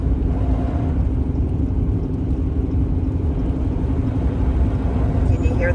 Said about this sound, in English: Can you hear the slush?